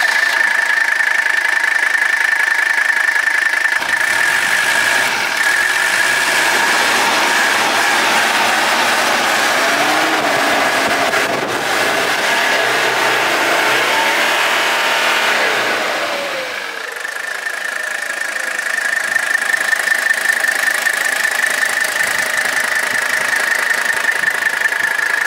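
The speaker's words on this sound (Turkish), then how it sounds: "Bir dizel gır gır gır gır gır gır geliyor." A Mercedes 300CD Turbo Diesel W123 coupe engine runs loudly and continuously with a steady clattering drone and a high whine, rising in intensity through the middle before settling back.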